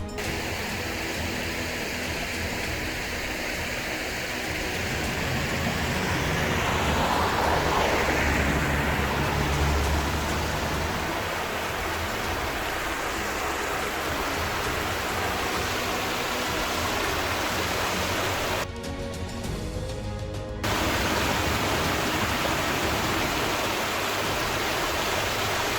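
Waddington Brook flows past stepping stones on a footpath, a steady broadband rush of water that stays loud and continuous throughout, with a brief harsher burst about two-thirds of the way through.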